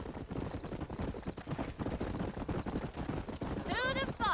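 Steady, rhythmic clip-clop of horse hooves in Red Dead Redemption on PS4, continuing throughout beneath talking voices, with a brief higher tonal sound near the end.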